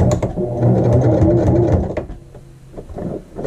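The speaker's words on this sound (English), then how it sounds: "we'll do our final edge stitch. And a little back stitch to finish" Sewing machine edge stitching around a fabric patch and then back stitching, close and loud with a continuous whir that breaks into short bursts as it reverses.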